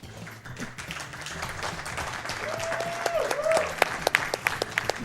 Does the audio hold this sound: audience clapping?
yes